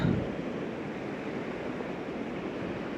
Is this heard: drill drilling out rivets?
no